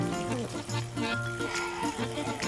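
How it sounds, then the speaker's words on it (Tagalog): Cold water pours and splashes steadily while hands are washed in a purification ritual before prayer, with soft voices over the flow. "kailangan maglinis muna tayo ng ating mga kamay."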